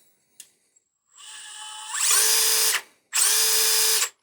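A Hobby Plus Arktos 6x6 RC truck converted to a brushless motor whines up to high speed in two loud, high-pitched bursts of about a second each, separated by a short pause after a softer spin-up.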